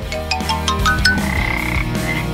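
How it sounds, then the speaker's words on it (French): A live frog croaking close by, a loud series of rapid, resonant croaks repeating in quick succession with no talking. "Surprise! Une grenouille vivante."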